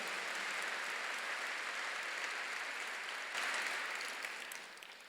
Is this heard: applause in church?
yes